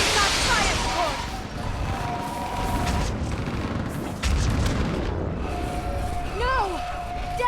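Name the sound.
artillery fire support explosions in video game Mass Effect 3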